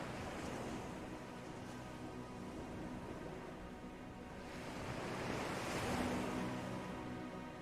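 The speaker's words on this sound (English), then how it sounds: "Follow the waves." Ocean waves surge and wash in a steady, broadband roar, swelling louder toward the end with some wind noise, no voices.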